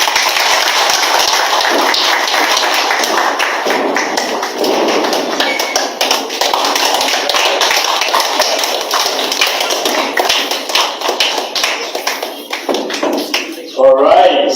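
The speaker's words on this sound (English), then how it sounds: "another round of applause for the President" An audience at a live political speech applauds the President with loud, dense, sustained clapping that fills the space, and a voice is heard over it.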